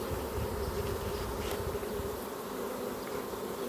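Freshly shaken swarm honeybees fan hard on top of a hive in late July, a dense steady drone close up, unbroken and without voices.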